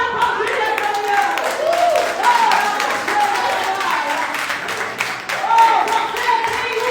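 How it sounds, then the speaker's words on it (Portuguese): A church congregation breaks into sustained applause during a morning service, dense clapping from many hands filling the room, loud and steady, with a voice calling out over it. "Será que você pode aplaudir essa manhã?"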